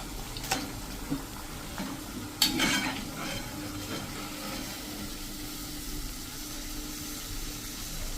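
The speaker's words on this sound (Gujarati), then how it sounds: "આ રીતે એકદમ બધા પીસ આપણે તળી લેશું" Pieces of wheat flour snack frying in hot oil, a soft steady sizzle with occasional clinks of a utensil stirring and lifting the pieces in the pan, close and fairly quiet, no voices.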